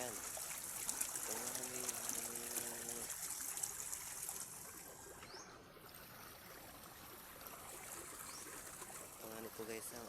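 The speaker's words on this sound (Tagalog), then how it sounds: "Ang lakas ng tubig dito sa aming palayan." Strong water rushing through a rice paddy irrigation channel, a steady close broadband flow with brief voices talking over it.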